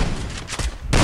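Gunfire in a battle royale video game: a few sharp shots in quick succession over about a second, loud and close.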